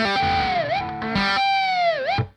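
Electric guitar with heavy distortion sustains a bright, buzzing note, bends down, then restarts with a new sustained note that swoops again before cutting off.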